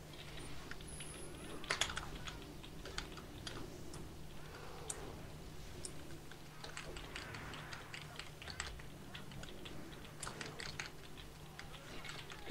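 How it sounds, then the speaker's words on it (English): Noisy computer keyboard typing during an online World of Warcraft game session, a faint, steady clatter of key clicks under a low background hum. "You know, a noisy keyboard today."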